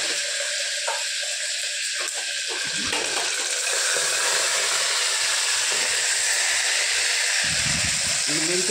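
Fenugreek leaves frying in oil with coriander and curry leaves, a loud continuous hiss and sizzle with stirring clatter that persists the whole time, and a voice talks intermittently over it.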